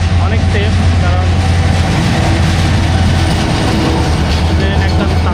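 An intercity express train runs past in Bangladesh, a loud, continuous roar of rumbling wheels and rail noise with a deep, steady low drone and faint rhythmic clatter.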